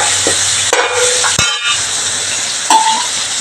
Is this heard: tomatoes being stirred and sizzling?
yes